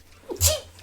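A single quick sneeze from someone at a tabletop board game session, short and fairly close, with a faint breath just before it.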